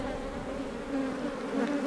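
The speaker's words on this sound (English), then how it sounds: "she does not want to get stung by bees" Bees buzzing in a steady, close, continuous drone that holds at even loudness throughout, with no voices.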